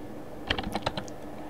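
Brief burst of typing on a computer keyboard, a quick cluster of about eight light clicks close by and fairly quiet, with no talking.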